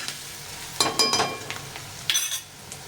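Chopped onion sautés in a pan with whole spices (a bay leaf and a clove) for a dahi chicken, giving a soft sizzle broken by a few sharp scraping stirs and light metallic clinks.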